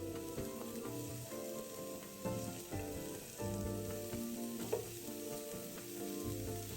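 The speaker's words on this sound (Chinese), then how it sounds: "油热后倒入锅内炒香" Chopped onion frying in hot oil in a pan over medium-low heat, a continuous crackling sizzle with light stirring scrapes, close and steady throughout, with no voices.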